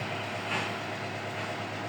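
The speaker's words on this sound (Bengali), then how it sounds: "পুরো রোড ব্লক করেছে ট্রেন" A train rolls past on a road crossing, making a steady, dense rumble with a faint rhythmic clatter that holds at an even, fairly close level throughout.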